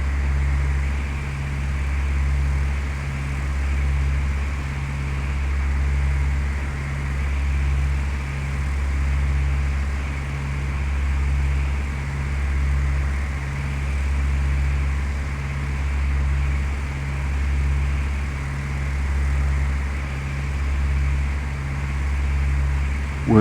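A Cessna Skyhawk's piston engine in Flight Simulator 2004 drones steadily at around 1900 RPM, a low, even hum with a slow regular pulsing swell and no voices.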